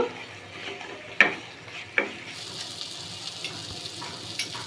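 Spices with green chilli and cumin powder cook in a pan with a splash of water, giving a soft, quiet sizzle. Two sharp spatula scrapes stand out early, then the frying continues more gently.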